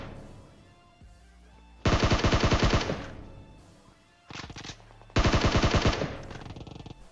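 Automatic M4 rifle fire in the PUBG Mobile game comes as loud, close bursts of rapid shots, with a gap between them and a shorter burst in the middle.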